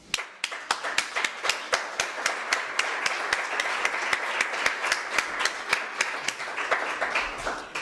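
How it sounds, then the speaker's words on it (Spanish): An audience at a book presentation for María Oruña's "Los Libros del Puerto Escondido" claps in an even, rhythmic beat, close and steady for several seconds. "Eso sí que merece un aplauso."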